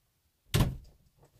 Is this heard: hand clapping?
no